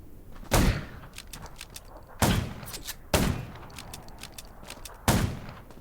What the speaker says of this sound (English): Gunshots will attract...